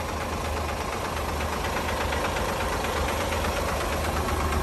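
A 2016 Hino Victor 500 truck's diesel engine idles steadily with a knocking, rattling rumble, constant and fairly close, no voices.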